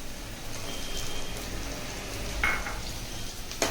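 Mushrooms tossed into a pan with green chillies sizzle steadily for a mushroom fried rice, a continuous close crackling hiss with a couple of sharper spatters and no voices.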